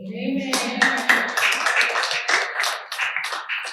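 Scattered hand clapping from a church congregation during a sermon, uneven claps in quick bursts alongside a voice speaking over them.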